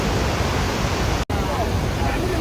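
Water rushing steadily at Mallalli Waterfalls, a dense roaring wash that stays close and loud, broken by one brief dropout midway.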